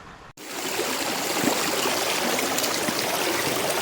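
A small mountain stream flows steadily close by, a continuous broad rush and trickle of water over the rocks of a clay-banked river with no voices.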